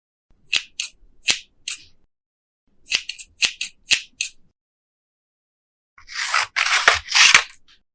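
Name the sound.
scissors cutting sound effect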